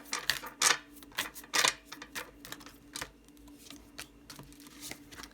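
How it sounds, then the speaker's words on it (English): A deck of tarot cards is shuffled by hand up close in a quiet room, with a series of quick riffling bursts and soft slaps that grow sparser toward the end. "Let's get a little shuffle of this."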